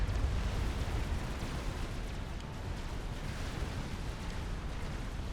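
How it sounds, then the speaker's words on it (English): Dense artillery fire and explosions rumble without pause in the real-time strategy game Supreme Commander: Forged Alliance, a continuous low, roaring barrage that eases slightly after the first second and holds steady to the end, with no voices. "As Vinyl now the focus of the artillery fire from Rowan"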